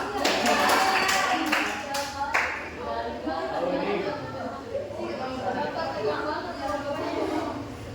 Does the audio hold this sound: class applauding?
yes